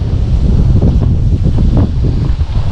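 Strong wind gusting across a lakeshore in the Moksha area of Mordovia, with whitecapped waves, producing a loud, continuous roar and heavy buffeting close to the microphone.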